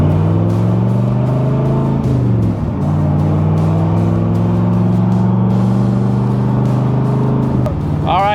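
A 1965 Corvette Sting Ray convertible with the L79 engine, a 5-speed and side exit exhaust cruises steadily, its deep engine drone loud and continuous with a brief dip in revs midway and a short shift near the end.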